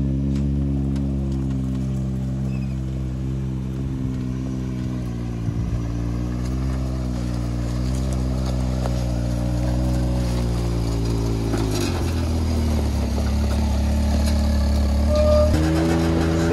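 A quad bike fitted with old tractor tires rides steadily through a river, its engine droning loud and close throughout with slight shifts in pitch, no voices.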